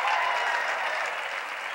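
A short burst of audience applause at a live stand-up comedy show, a steady wash of clapping that fades slightly, with no talking over it.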